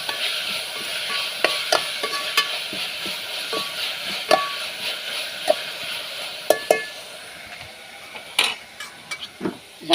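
Chowmein stir-fries in a pot over an open fire: a continuous hiss and sizzle under irregular metallic clinks and scrapes of a utensil against the pot, close up and fairly loud.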